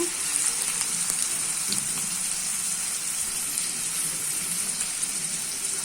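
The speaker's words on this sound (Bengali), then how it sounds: "পেঁয়াজটাকে আমি কিছুক্ষণ ভেজে নেব।" Onions sizzling in hot oil in a pan, cooked after koi fish for a dopiaza, a steady bright crackling hiss heard close up with faint occasional stirring clicks and no talking.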